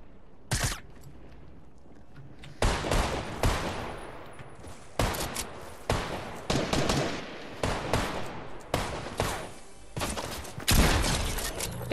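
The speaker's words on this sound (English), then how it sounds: "I laid down suppressing fire" Bursts of automatic gunfire in Fortnite laid down as suppressing fire, loud rattling volleys repeating every second or so over about ten seconds, close and without talk.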